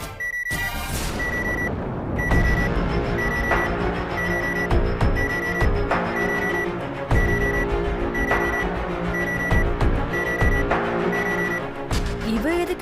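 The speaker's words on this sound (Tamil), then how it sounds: "இவ எதுக்கு இந்த நேரத்துல அலாரம் வச்சிருக்கா?" Alarm clock ringing indoors in a domestic scene, repeated steady electronic beeps in a regular pattern, loud and continuous over a dense music background with no talk.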